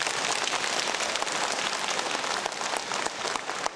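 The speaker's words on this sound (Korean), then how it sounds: "박수 한번 쳐주세요." Audience applause at a public talk about Gwangmyeong city, a dense, steady wash of many hands clapping at once that holds at an even level throughout, with no voices standing out.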